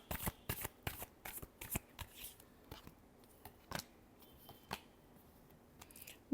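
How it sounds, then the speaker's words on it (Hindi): Tarot cards are shuffled by hand in a series of crisp, quick riffles and flicks with short pauses between bursts, close and quiet, with no talk. "Last shuffle."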